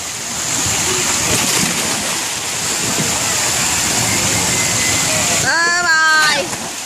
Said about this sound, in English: She's going under the waterfall.